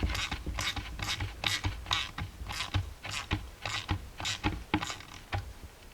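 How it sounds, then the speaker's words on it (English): A nut being tightened with a ratchet to compress a window seal on a Jeep J10, a rapid even series of close clicks running throughout with a steady mechanical rhythm and no talking. "As I tighten the nut, it should kind of compress it nicely into place."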